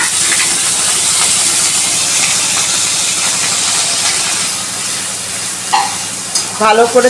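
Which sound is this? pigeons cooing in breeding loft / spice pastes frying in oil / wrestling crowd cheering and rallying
spice pastes frying in oil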